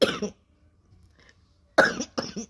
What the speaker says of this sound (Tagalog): Pero may konti pang ubo.